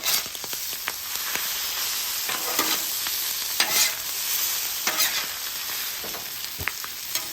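Spinach sizzles and wilts on a hot flat-top griddle as a utensil scrapes and stirs it in repeated short strokes, with a steady frying hiss underneath and no talking.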